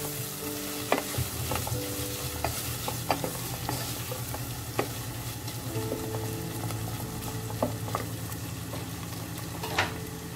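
Carrot frying in a pan as it is stirred, a steady close sizzle broken by repeated scrapes and clicks of the utensil against the pan, with no talking.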